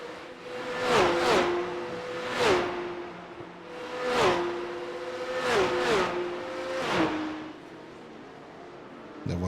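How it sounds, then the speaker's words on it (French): Porsche Cup race cars sweep past in close succession, each engine note rising to a loud whooshing peak then dropping in pitch as it goes by, several passes repeating in a steady train. "Là, on a un beau petit train de voiture ici."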